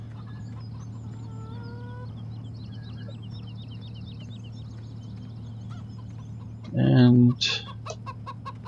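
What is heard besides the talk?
chickens clucking in a video game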